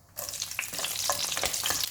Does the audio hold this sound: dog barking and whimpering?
no